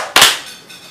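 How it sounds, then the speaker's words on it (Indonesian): A single sharp hand clap, close and crisp, during a children's clapping game, followed by a short fading room tail, with no voices. "Ayo main tepuk tangan."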